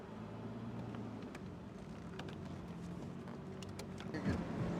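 A 2006 Aston Martin DB9 Volante with a V12 engine warms up, giving a steady low idle rumble with faint clicks and light mechanical ticks, and a short rising tone near the end.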